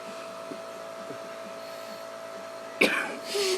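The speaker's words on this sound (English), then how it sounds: "Who can raise the roof in decibels with a coughing fit?" A single harsh cough bursts out near the end after a stretch of steady background hum, close and loud, followed by a brief noisy exhale or throat sound.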